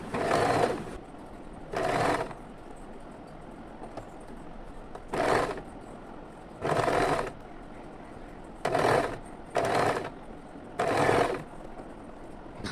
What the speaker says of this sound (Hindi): अभी गले के साथ पट्टी को लगभग हाफ इंच की दूरी से ऐसे सिल देनी है